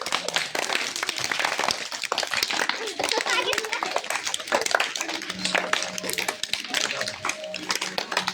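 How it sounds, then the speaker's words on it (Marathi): Hands clap in front of and behind the body during a group yoga session, a steady run of sharp claps over constant children's chatter and voices. "आता समोर टाळी, पाठीमागे टाळी."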